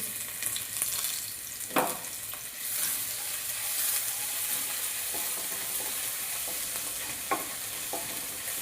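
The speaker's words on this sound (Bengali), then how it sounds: "ফোড়ন দিয়ে দিচ্ছি জিরা, কালো জিরে দিয়ে দিলাম, রসুন আদা থেতো করা দিয়ে দিলাম" Cumin, black cumin, and crushed garlic and ginger hit hot oil, giving a close, steady sizzle and crackle with occasional stirring scrapes in the pan throughout.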